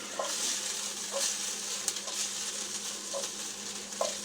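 Ahi tuna steak sizzles in a hot pan with a spoonful of sugar for caramelizing while tongs flip it. A steady close-up hiss runs throughout, broken by several sharp clicks and scrapes at irregular intervals.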